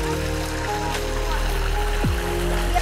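Steady rushing water from springs in rural Costa Blanca, Spain, flows throughout, with a low engine-like hum underneath and a brief voice near the end.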